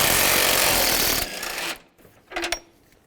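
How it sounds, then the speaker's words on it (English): A ratchet working engine mount bolts free on a Cadillac DTS, with a loud rasping burst of clicks that cuts off, then short metallic scrapes and a clink, no speech. "Now take these 2 bolts off, use a 15mm socket"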